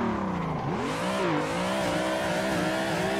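A car drifting with the e-brake in the Assetto Corsa racing game, its engine revving high and steady with tire squeal as it slides, loud and continuous with no talking.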